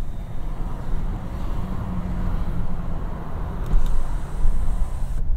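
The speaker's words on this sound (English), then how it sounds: "Got a lot of highway noise going around us." Highway traffic roars through the open window of a 2023 Honda CR-V Hybrid Sport Touring, a steady low rumble of wind and passing cars that swells slightly as vehicles go by.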